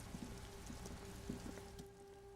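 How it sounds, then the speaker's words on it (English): Steady rain falls across a great city in the video game Disco Elysium, a soft continuous patter of drops spread evenly through the whole stretch with a faint tonal hum beneath. "All around you, rain falls on the great city of Rivakal."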